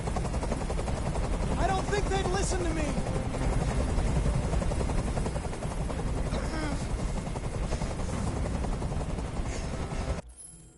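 A helicopter in the video game Detroit: Become Human drones loudly and continuously with rhythmic rotor chop, a voice speaking over it before the noise cuts off near the end.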